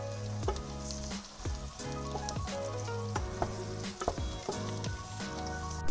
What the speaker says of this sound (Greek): Σε αυτό το σημείο θα βάλουμε τα μανιτάρια μας. Να σοταριστούν και αυτά λίγο με το κρεμμύδι.